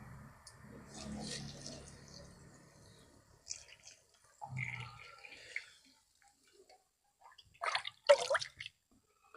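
Water is poured onto a potted avocado tree in a village garden, coming in quiet, intermittent splashes and trickles with pauses between, faint and close.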